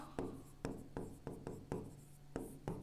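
Pen writing Hindi text on paper in quick scratchy strokes, a run of about eight short bursts with brief pauses between them, close and fairly quiet with no voices.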